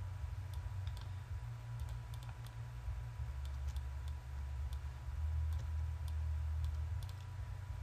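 Computer keyboard keys and mouse buttons click sporadically at a desk during a UDK cel-shading material setup, light close taps over a steady low hum.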